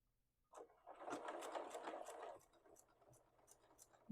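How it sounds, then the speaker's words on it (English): A sewing machine back stitching through a jelly roll rug whirs in a steady run for under two seconds, then stops, leaving quieter intermittent ticks and clicks; no talking. "now I'm going to back stitch some as far as it will allow me"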